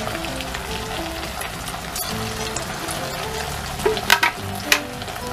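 Potato and semolina snack frying in hot oil over a high flame, a dense, continuous bubbling sizzle close up, with a few louder crackles and clinks near the end and no talking.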